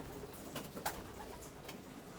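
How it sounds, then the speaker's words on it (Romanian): Young racing pigeons in a breeding loft give soft, low coos, a few faint calls rising over a steady hum of background noise, with no voices. "Da, sunt foarte mulți porumbei tineri."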